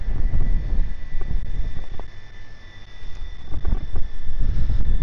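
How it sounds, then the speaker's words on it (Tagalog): Wind blowing outdoors at a high lookout over Qatar, a steady rough rumble buffeting the microphone throughout with gusts rising and falling, no voices. "Medyo mahangin."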